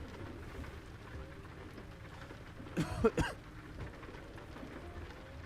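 Steady rain patters on a truck in American Truck Simulator, a dense even hiss that runs throughout, broken midway by a short burst of louder rumbling.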